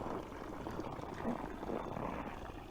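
Water from a hose runs steadily into a container at a winter chicken coop, a faint continuous splashing and trickling wash that holds constant throughout with no talking over it.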